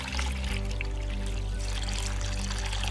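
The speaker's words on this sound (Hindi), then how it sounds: "बीज के शोधन के लिए सबसे पहले एक बर्तन में पानी डालेंगे" Water pouring steadily into a vessel for soaking elephant foot yam seed, a continuous close splashing stream with no talk.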